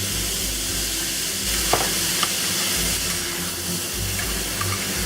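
Pressed bean curd with shredded pork is stir-fried in a wok, a loud continuous sizzle with faint scraping and light knocks as it is tossed, with no voices.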